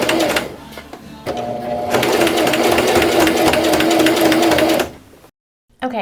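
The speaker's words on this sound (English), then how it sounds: "put your needle down on the edge, and just begin stitching" A sewing machine stitches a dress seam allowance in a steady, close whir lasting a few seconds, preceded by a slower start, then stops abruptly into silence before a brief restart.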